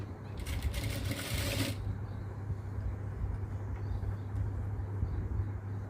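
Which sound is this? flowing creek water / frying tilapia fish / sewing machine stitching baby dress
sewing machine stitching baby dress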